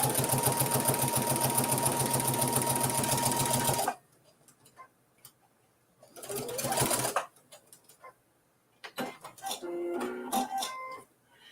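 Sewing machine back stitching on a quilt, a loud steady rapid stitching run for about four seconds that stops abruptly, followed by quiet handling and rustling sounds.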